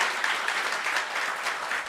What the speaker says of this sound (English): So please, one round of big applause for all our students.